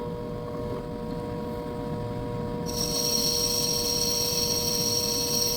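A machine tool on a gunsmithing bench block runs a finish pass with a steady mechanical whine and hum. A brighter, higher cutting tone joins partway through and holds to the end.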